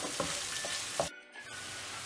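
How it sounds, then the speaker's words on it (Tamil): Onions fry in a pan with a bright, loud sizzle and a few stirring scrapes, close by, cutting out abruptly for a moment before the hiss returns. "இதிலேயே வெங்காயம் ஆட் பண்ணிடலாம். நல்லா ஃப்ரை பண்ணணும் வெங்காயம்."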